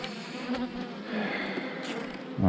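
A bee drones nearby outdoors, a continuous buzzing hum that rises and falls slightly as it moves, with a brief rustle at the end and no talk.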